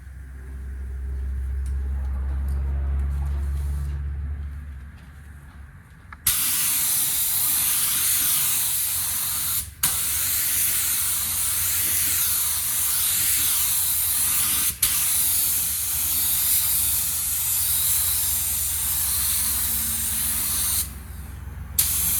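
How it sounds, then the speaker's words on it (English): A paint spray gun shoots epoxy primer onto a custom cowl hood for a 1983 Chevy G20 van, a loud, steady, close hiss that runs continuously for about fifteen seconds with two brief breaks, then cuts off. "I'm gonna go ahead and spray what I got left in the gun."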